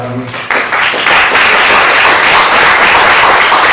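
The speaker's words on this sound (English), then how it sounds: "Everyone has clapped for you." An audience applauds after a speech at a school leavers party book release, a loud sustained burst of many hands clapping that starts abruptly and holds steady without any talk.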